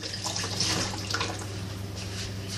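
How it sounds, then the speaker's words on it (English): Tap water runs steadily into a kitchen sink while hands are washed during home bread-making, a soft continuous splashing hiss with a low background hum and no talking. "Wash your hands"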